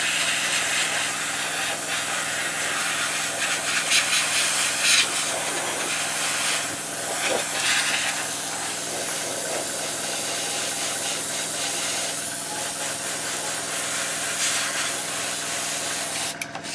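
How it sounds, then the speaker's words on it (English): Airbrush spraying paint onto a Trumpeter M1133 Stryker MEV model kit, a continuous close, loud hiss with a steady compressor hum beneath it, running unbroken throughout. "Continue moving the airbrush all the time. Don't let it sit in one place for too long."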